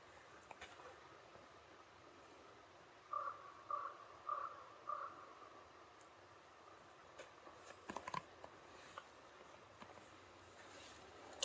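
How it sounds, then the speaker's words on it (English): A crow caws four times in a quick, evenly spaced series, faint and distant over a quiet outdoor hush, followed later by a softer call. "There's a crow."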